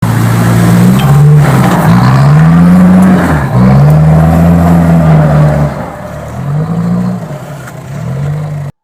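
A Toyota Hilux Surf third-generation RZN-185 engine with a straight-pipe exhaust revs up and down repeatedly, loud and close, with a deep droning note rising and falling in several surges before settling to a rumbling idle.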